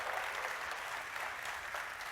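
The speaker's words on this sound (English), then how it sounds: "Let's give one round of applause for Christina." An audience at a live E3 PC gaming show applauds for a contestant, a steady wash of clapping hands throughout, fairly distant and continuous with no talk.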